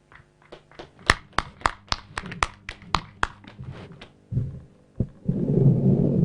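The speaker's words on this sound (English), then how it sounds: "Kindly make the hand clap louder" An audience at a veterinary higher education anniversary ceremony claps, heard as sharp, separate hand claps in a quick, uneven rhythm, close and distinct, that thin out before a denser rush of applause builds at the end.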